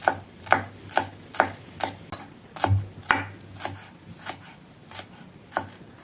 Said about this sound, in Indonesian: Pertama, geprek bawang putih, lalu rajang tipis-tipis.